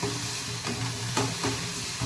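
Fish curry masala sautéing in a pan with a little oil and water, a steady close sizzle with soft spatula scrapes over two seconds, no talk.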